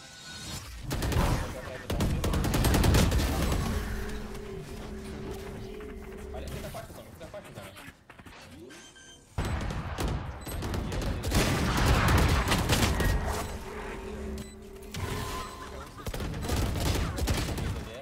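Gunshots in the game Valorant, sharp repeated shots and bursts in two clusters separated by a brief lull, with voices talking over the action.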